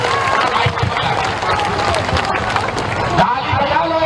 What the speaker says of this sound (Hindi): अब बजा लीजिए ताली